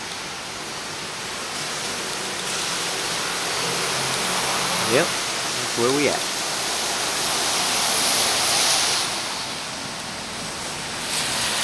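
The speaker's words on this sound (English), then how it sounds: "We're just sitting right here waiting for the rain to stop so we can get on the road again." Steady rain falls outside near an old train station, a continuous hiss of drops throughout, while a person speaks briefly partway through.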